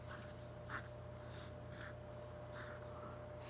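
A pen drawing a diagram for a geometry word problem on paper, giving soft, intermittent scratchy strokes over a low steady hum, close and quiet with no talk.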